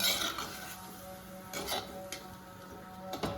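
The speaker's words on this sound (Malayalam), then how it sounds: "ഇടയ്ക്കൊന്ന് തുറന്ന് നോക്കിയിട്ട് ഇളക്കി കൊടുക്കാം" A pot of snake gourd and dried fish avial is uncovered and stirred, giving a few faint metallic clinks and scrapes of a utensil against the pot over quiet kitchen background.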